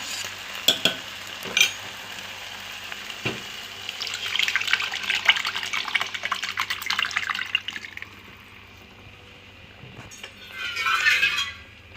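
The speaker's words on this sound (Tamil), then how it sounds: "இப்போ தக்காளி சூப்பு, தக்காளி கரைச்சி வச்ச தண்ணி வந்து ஆட் பண்ணிடலாம்." Tomato water pours into a hot pot of tomato soup with a rising hiss and sizzle, followed by quieter bubbling, then another brief sizzling splash near the end.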